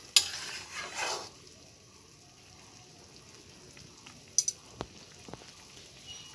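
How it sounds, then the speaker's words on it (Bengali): Tomatoes stirred briefly in a frying pan with a soft sizzle, a few spatula scrapes at the start, then quieter frying and a handful of sharp utensil taps against the pan toward the end, no speech. "টমেটোগুলো দিয়ে আমি হালকা একটু নেড়ে দেব।"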